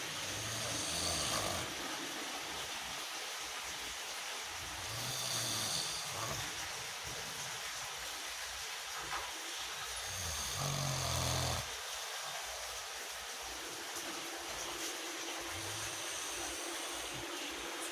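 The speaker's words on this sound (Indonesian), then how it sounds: "lagi ngorok guys" A father snoring at home, slow rasping breaths repeating every few seconds, faint and close under a steady broadband hiss.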